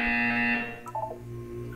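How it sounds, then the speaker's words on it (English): A buzzer in the video game Portal 2 sounds as a loud, harsh electronic tone for about half a second, then falls to a short warbling electronic chirp and a low hum. "You will hear a buzzer."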